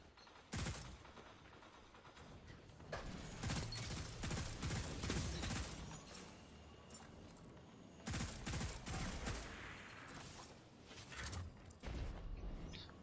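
Gunfire in Destiny 2 breaking a barricade, dense bursts of rapid shots in several clusters across thirteen seconds, fairly faint and set against game background noise.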